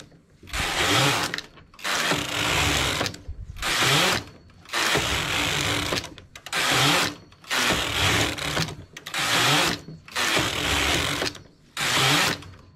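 A knitting machine working closed stitch rows, the carriage swept back and forth in repeated loud mechanical passes of roughly a second each, separated by short pauses, close and without talk.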